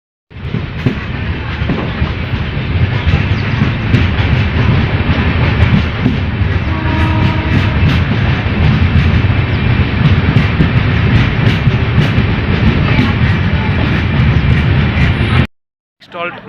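A passenger train runs along the rails in India near Nanguneri, heading toward Tirunelveli, with a loud, steady rumble and rattle that carries on for about fifteen seconds before a brief dropout.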